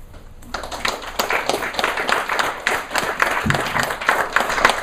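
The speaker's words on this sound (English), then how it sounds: "A big round of applause for these two very, very fine gentlemen." An audience gives a round of applause for two gentlemen after a spoken storytelling piece, a dense burst of many hands clapping close and loud that starts abruptly and holds steady to the end, with no voices over it.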